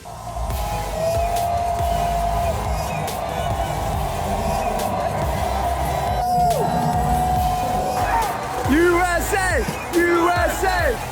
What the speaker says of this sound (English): there were so many people on the sides of the river that were cheering just USA, USA